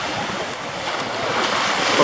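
Big ocean waves breaking at Waikiki beach in Hawaii, a continuous rushing surf wash mixed with gusty wind buffeting the microphone.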